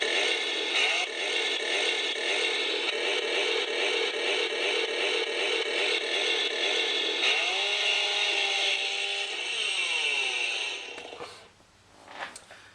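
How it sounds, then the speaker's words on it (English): NECA Gears of War Lancer toy rifle plays its electronic chainsaw effect, a loud continuous buzzy revving drone through a small speaker that holds steady for several seconds, then winds down with a falling whine and ends in a brief click. "this is the Lancer from Gears of War, so what's the Lancer without your chainsaw sound? Hit the aux button one time"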